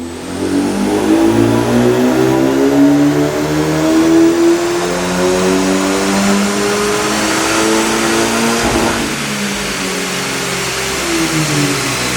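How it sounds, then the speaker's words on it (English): A Honda Civic engine revs hard on a dyno through rising gear pulls, loud and close, then drops back to a steady lower drone near the end. "Let me run this car in a dyno, see how it goes"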